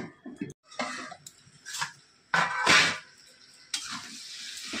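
Sugar stirred into Bengali mixed vegetable chorchori sizzling in a pan, with bursts of frying hiss and scraping stir strokes separated by brief pauses.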